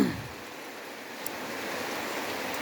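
Steady rain falls in a continuous, even hiss of moderate loudness, with no voices and no break in the wash of sound.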